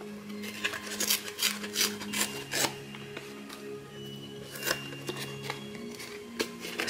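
Paper torn by hand into pieces for a junk journal: a series of short, crisp ripping bursts in an irregular rhythm, close and moderately quiet, over a low steady hum.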